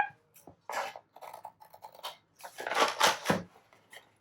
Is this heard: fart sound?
no